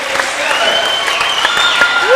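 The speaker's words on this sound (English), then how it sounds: "she's receiving a standing ovation from the crowd" A crowd at a state high school swimming championship gives a standing ovation as a swimmer leaves the pool, with loud, sustained clapping and cheering that continues throughout while an announcer talks over it.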